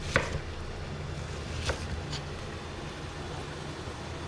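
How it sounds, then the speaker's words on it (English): Knife cutting through an onion on a board: a sharp chop at the start and another a moment later, with a fainter third stroke, over a quiet room hum and no talk. "turn it to its side and just cut it like this"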